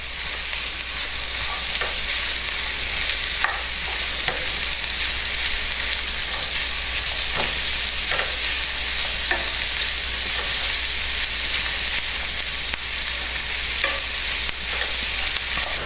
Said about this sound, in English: you basically just want to cook this until the onions and the spinach itself is nice and wilted and translucent